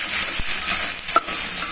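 Onions frying in oil after cumin tempering, a loud, close, steady hiss of sizzling with a couple of brief stirring clicks, no voices.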